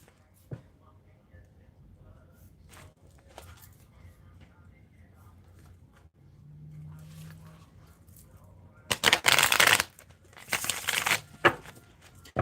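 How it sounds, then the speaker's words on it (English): Stiff, thick playing cards being shuffled close by, with loud bursts of riffling near the end after quieter handling and faint background sounds. "These cards right here are the most hardest cards to shuffle ever."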